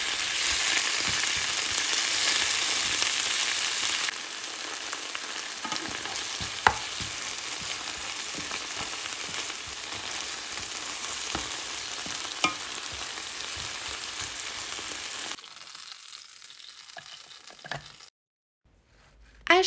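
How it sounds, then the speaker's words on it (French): Fresh washed spinach sizzles in a pan, a steady close frying hiss with occasional stirring scrapes, fading to quiet near the end. "Et ajoutez 3 grosses poignées d'épinards frais et lavés évidemment, et cuire environ 30 secondes."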